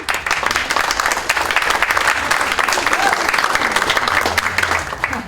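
Steady audience applause fills a bookstore event hall, dense and continuous throughout, with a faint low hum near the end and no clear speech over it.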